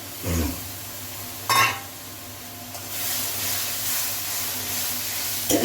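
Tomato paste frying in hot oil in a pan makes a broad hissing sizzle that swells after a couple of brief knocks and scrapes, steady and fairly close with no talking.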